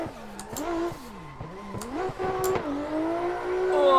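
A drift car, driven on hand controls with a paddle clutch, revs hard at full throttle, its engine note rising and falling in quick swoops with clutch kicks, then climbing steadily and loud, with faint tire noise.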